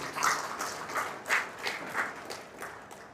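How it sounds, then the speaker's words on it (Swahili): An audience in Tanzania bursts into brief scattered applause, the claps rising and fading in a few uneven waves, moderately close but fairly soft. "niwaombe tujipigie makofi mengi sana kwa kila mmoja wetu"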